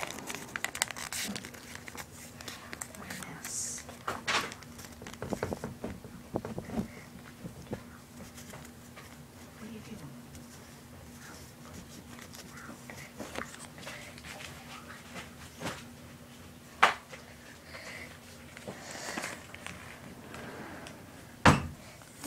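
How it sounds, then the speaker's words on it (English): Origami paper being creased and squash folded gives soft, intermittent crinkles and rustles with a few sharper snaps of creasing. It is quiet and close, spread across a long, mostly calm stretch. "lift up that one crease part, and squash fold it"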